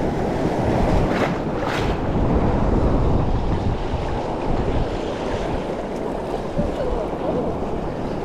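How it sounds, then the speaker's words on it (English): Ocean waves surge around kayaks offshore in a steady, rough wash, with wind buffeting the microphone throughout and no talking. "I don't know where these waves came from"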